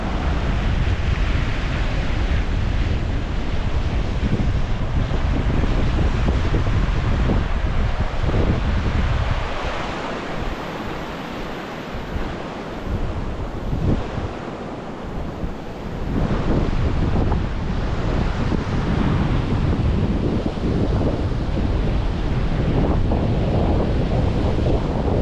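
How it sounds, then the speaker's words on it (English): Waves breaking on a North Sea beach under steady gusting wind, a loud continuous roar of surf and wind buffeting close by, easing briefly midway before surging back, with no talking. "it's the North Sea again"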